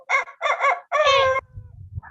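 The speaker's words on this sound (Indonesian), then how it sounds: "Itu suara ayam." A rooster crows loudly and close by, a few short clucking calls leading into one drawn-out cock-a-doodle-doo, then low rumbling farmyard noise.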